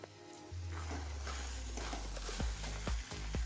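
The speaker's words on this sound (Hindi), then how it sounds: "अब हमें इसको लगातार चलाना है क्योंकि मावा कढ़ाई से चिपक जाएगा" Mawa and raisins stirred in a kadhai over heat: a low, steady cooking rumble with soft scraping and a few dull knocks of the spoon against the pan toward the end.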